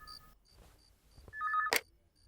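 A telephone rings in a Hindi movie scene, short electronic ring tones coming faintly at first and then louder, ending with a sharp click as though the receiver is picked up, with no talking.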